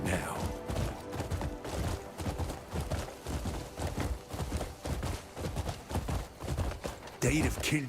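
In the video game Crimson Desert, a horse's hooves beat in a steady, close galloping rhythm while a person talks over them.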